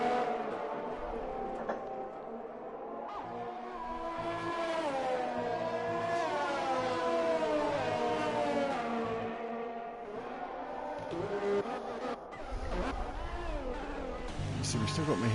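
Race cars lap the Hungarian Grand Prix circuit in a racing video game, their engines whining and shifting pitch as they accelerate and change gears beneath continuous excited commentary.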